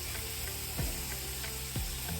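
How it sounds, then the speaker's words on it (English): Food sautés in a pan on a home stove, giving a soft, steady sizzling hiss broken by a couple of faint low knocks, with no talking. "our stuff is sizzling"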